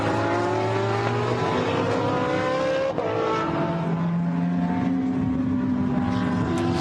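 GT race cars from a Blancpain GT Sports Club race at the Barcelona circuit roar steadily, their engine notes rising and falling as they pass in a continuous, loud stream with no talk.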